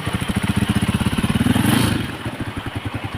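A Rusi 125 motorcycle engine idles close by after ignition troubleshooting, with a steady rapid putter that swells briefly into a louder rev and then settles back to a lighter idle.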